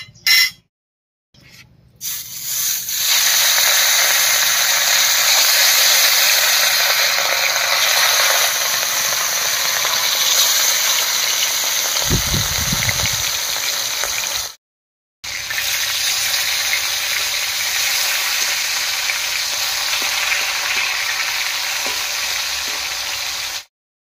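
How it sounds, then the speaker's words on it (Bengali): Katla fish slices fry in hot mustard oil in a wok over a village stove, a loud steady sizzle running throughout with a brief break midway, no talking. "তেল গরম হয়ে গেছে, মাছটা ভেজে নিচ্ছি।"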